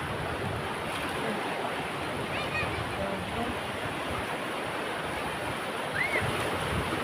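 Strong ocean waves crash and wash continuously in a broad roaring surf, moderately loud and steady, with faint distant voices and a brief high call near the end.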